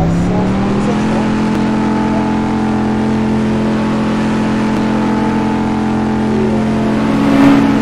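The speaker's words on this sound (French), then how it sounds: "j'ai aussi acheté la Porsche Cayman 718" Porsche Cayman 718 engine in the Roblox driving game, a steady loud drone with a rising rev near the end, holding constantly throughout without pauses.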